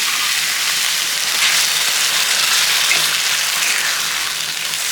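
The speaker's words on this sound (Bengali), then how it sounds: "এটা সব মশলা ভাজা হয়ে গেছে এখন জল দিয়ে দেবে" Water poured onto fried spices and rice in a hot pan for a rohu fish-head muri ghonto, producing a loud, close, continuous hissing sizzle that barely wavers, with no voices.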